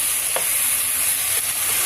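Meat frying over high heat in a pot for Saudi kabsa gives a steady, loud sizzle throughout, with a couple of brief stirring clicks and no talking.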